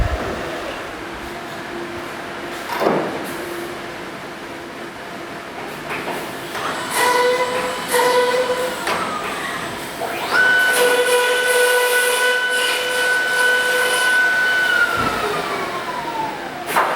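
A Face-SS door processing machine auto-feeds a door, giving off layered motor whines and tones that rise and fall, with occasional clunks over a steady mechanical hum. The sound is fairly loud and continuous, and no one speaks.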